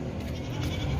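Goats and sheep bleat in a dense, continuous chorus while being loaded onto a vehicle, mixed with steady background noise and no clear talk.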